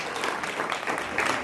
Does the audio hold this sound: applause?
yes